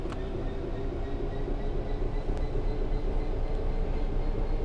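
A Class 66 diesel locomotive shunting aggregate hopper wagons during loading at Elstow on the Midland Main Line, a steady low engine rumble and hum heard from nearby with no break and no voices.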